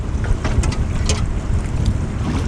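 Gusty wind buffeting a small boat at sea while out crabbing, a steady rushing roar with low rumble and some water noise, no speech.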